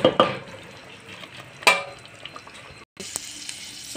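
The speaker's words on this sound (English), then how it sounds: "So we are now going to fry a lot of onions." Onions fry in a pan for a Swahili biryani, a low steady sizzle under a few sharp stirring scrapes, with a brief drop to near silence before the frying resumes.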